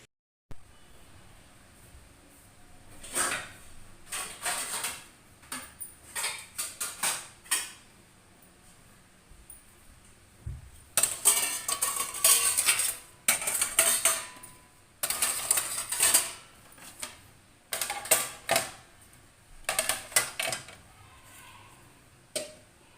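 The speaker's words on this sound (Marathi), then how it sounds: "आता मी पहिले भांडी मांडून घेते" Metal pots and utensils clink, clatter and scrape as they are set out in a home kitchen before making bhakri, bursts of close clanking separated by quiet pauses.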